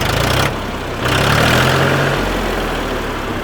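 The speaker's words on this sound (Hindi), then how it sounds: "बहुत शानदार आवाज़ है ट्रैक्टर में" A loud, close tractor engine idles with a steady low rumble, briefly rising and dipping in pitch as the throttle shifts.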